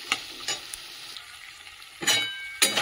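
Chickpeas, potatoes and spices stir-frying in a pan for a soybean curry: a low background sizzle broken by several sharp, close scraping stirs of a spatula, occurring at irregular intervals.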